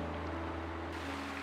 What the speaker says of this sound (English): A rapid water flow.